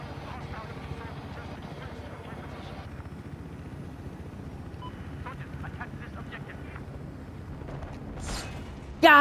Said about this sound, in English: Let's see if I can steal that helicopter.